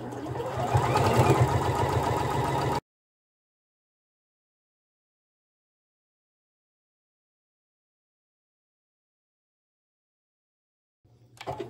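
Sewing machine stitching along a garment neckline, a steady close whirring run of about three seconds that stops abruptly, followed by long silence and a faint brief resumption at the end.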